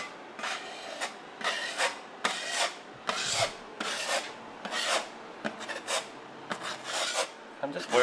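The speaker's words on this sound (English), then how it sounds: "I'm just working to smooth off the any extra large lumps and bumps" Plaster compound being smoothed over a patch on a gyprock wall, a series of close, scraping rasps in regular strokes roughly every half second to second, separated by brief quiet gaps, with no speech.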